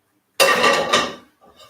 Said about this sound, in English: I got my frying pan.